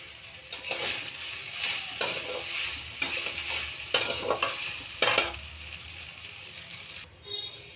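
Egg chow mein sizzles in a pan while it is stirred and tossed, with a steady frying hiss broken by about six scraping, clattering stirs. The sound is close, and a short quiet pause comes near the end.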